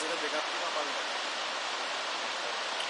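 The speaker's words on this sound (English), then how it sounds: "I think we can go close to the waterfall and take more videos." Waterfall at Galboda Ella in Sri Lanka, a steady, dense roar of falling water that fills the whole clip at constant loudness, heard up close with no breaks.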